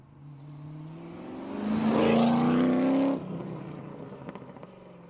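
A TVR Tamora's Speed 6 straight-six engine rises into a revving pitch sweep, loud and close for a few seconds before dropping back to a rough idle.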